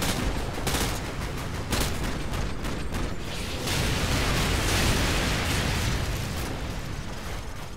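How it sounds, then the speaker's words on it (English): Artillery strike in Call of Duty Modern Warfare 2, a sustained barrage of dense, rumbling blasts and cracks rolling on for several seconds, loud and continuous with no pauses. "Artillery inbound. Coordinates confirmed. Firing."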